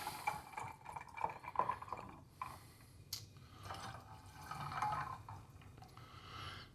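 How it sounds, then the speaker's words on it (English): Lime juice is splashed into a moonshine mule cocktail. Soft, quiet liquid trickles and drips come in short bursts against a faint room background. "and a splash of lime"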